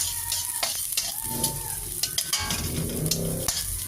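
Garlic, onion and ginger sauté in a hot pan, giving a continuous close sizzle broken by repeated stirring scrapes and clacks of a utensil.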